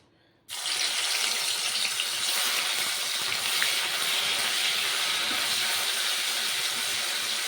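Ground ginger, chili and garlic dropped into hot oil, a sudden loud steady hiss and crackle that starts after a brief silence and holds at full strength throughout, close up and alone.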